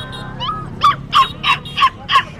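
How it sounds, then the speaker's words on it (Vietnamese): Dogs for sale at a highland market in northwest Vietnam give a run of five or six sharp yips and whimpering barks, close and fairly loud over market murmur. "Bán cả đây mấy con chó đây các bạn."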